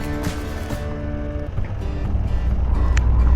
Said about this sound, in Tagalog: Lakas ng hangin kahit tanghaling tapat na.